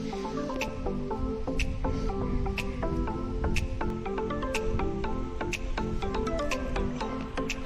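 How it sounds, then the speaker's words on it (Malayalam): Water in a shallow stream or pond is stirred and churned by hand while catching fish the traditional way, giving a steady, faint run of close splashes, drips and squishy sloshing. "വെള്ളം കലക്കി കലക്കി"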